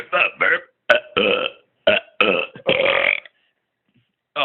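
A man lets out a string of loud, drawn-out burps, about seven close belches in a choppy rhythm with short pauses, one long final rumble, then silence before another starts.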